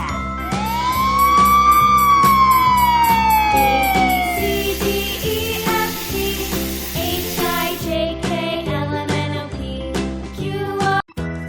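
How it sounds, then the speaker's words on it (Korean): A fire truck siren wails in a long rising and falling sweep, loud and near, then gives way to rapid repeated tones, all over a steady bouncy musical backing. "fire truck, 소방차"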